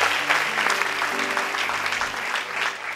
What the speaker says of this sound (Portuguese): Dê um aplauso bem forte a Deus.